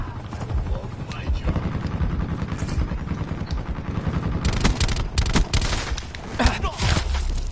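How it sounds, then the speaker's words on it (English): Attack helicopter overhead in the video game Black Ops 4, a loud continuous rotor roar with bursts of gunfire layered over it and game voice callouts mixed in. "Enemy attack chopper above."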